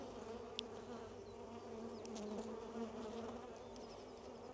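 Honeybees buzzing around an open hive during a rainy-weather hive inspection, a steady dense drone with a few individual bees flying close past, no speech.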